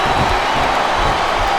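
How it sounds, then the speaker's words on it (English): Capacity arena crowd in the WWE SmackDown vs Raw 2007 wrestling video game, a loud, continuous wash of cheering and roaring throughout. "It sounds like this capacity crowd has something on their minds."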